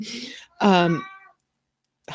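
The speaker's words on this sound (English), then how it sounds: "if you can hear meowing in the background" A cat gives a drawn-out meow, preceded by a shorter vocal sound and followed after a pause by another brief cry.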